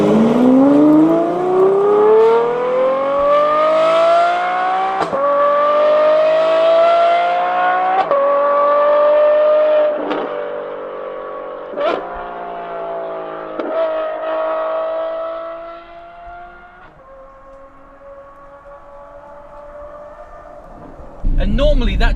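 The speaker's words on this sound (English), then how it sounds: "that V12 howl that, you know, people expect from a V12 engine" A Novitec N-Largo Ferrari F12 V12 revs hard, its loud howl climbing through several gear pulls with brief breaks between them, then easing off toward the end before a sudden burst.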